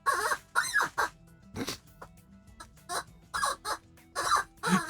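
Lord Doyle keeps attacking a small rubber chicken toy, drawing irregular, wheezy squeaks and honks of varying length. Quieter and close by, they come in scattered bursts with short gaps across the whole stretch.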